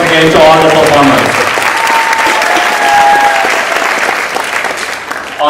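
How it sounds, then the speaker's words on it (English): Audience applause for performers at a charity cultural show, a dense sustained wash of clapping with a few whistle-like tones, loud and close, easing slightly toward the end. "Give a big round of applause once again to all the performers."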